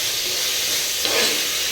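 Onion and spinach stirred in a frying pan, giving a steady close hiss of sizzling with a brief louder swell of scraping and steam near the end.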